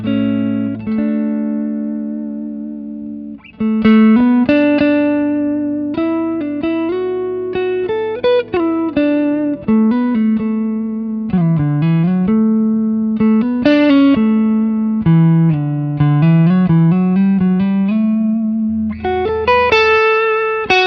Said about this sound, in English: What you were just hearing was our Edge signature Strat into the Bogner